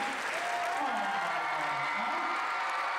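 Audience applause and cheering fill a fencing hall at a mixed-team foil match, a steady dense wash of clapping with voices calling over it throughout.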